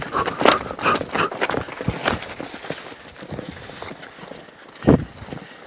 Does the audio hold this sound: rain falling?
no